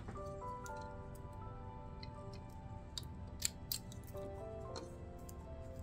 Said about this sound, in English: I know I want to trim some of this stuff away that's on the inside too.